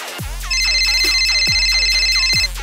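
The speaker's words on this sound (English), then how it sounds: "The phone's going off." An electronic phone ringtone plays steadily for about two seconds, loud and close, over the ongoing crowd and thudding game sounds of a FIFA football match between Dortmund and Bayern.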